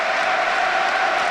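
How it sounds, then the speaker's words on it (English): Brighton football supporters at a Championship match against Burnley roar steadily behind their team, a dense, continuous crowd wash with no breaks, loud and filling the whole moment. "Brighton crowd getting behind their team."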